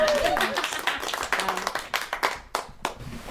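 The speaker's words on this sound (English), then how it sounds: "A little round of applause for one of the artists." A small podcast audience gives a short round of applause for an artist, a brief cluster of scattered hand claps with voices talking over it.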